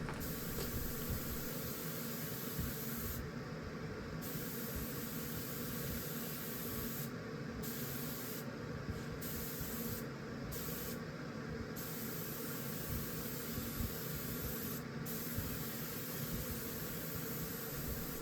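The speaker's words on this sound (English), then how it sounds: "then I'll spray the final layer of lacquer" Steady hissing spray of lacquer onto a dresser runs continuously for the whole stretch, a broad airy rush with no talking.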